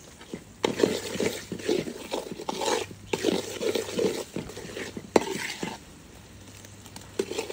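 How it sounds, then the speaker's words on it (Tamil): Hot water poured into roasted semolina for kesari in a pan, with bursts of sizzling and bubbling as the water hits, broken by stirring and utensil scrapes in short irregular spells, close and fairly loud. "இப்போ சுடுதண்ணியை வந்து நம்ம இதில் வந்துட்டு ஆட் பண்ண போகிறோம்."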